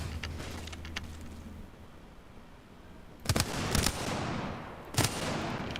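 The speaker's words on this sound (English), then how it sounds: "Shots fired and they're hitting me." Video game gunfire: a steady stretch of ambient combat noise, then several sharp, loud bursts of shots in quick succession, with no talking.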